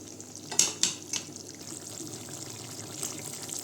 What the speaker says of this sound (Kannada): ಒಂದು ಗ್ಲಾಸಷ್ಟು ಮತ್ತೆ ನೀರು ಹಾಕ್ಕೊಳ್ತಾ ಇದ್ದೀನಿ